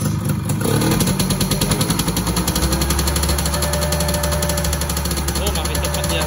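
Yamaha F1ZR two-stroke motorcycle engine revving hard with the throttle held wide open, a loud, close, continuous buzzing roar with rapid pulsing clatter that holds steady throughout, with voices faintly under it.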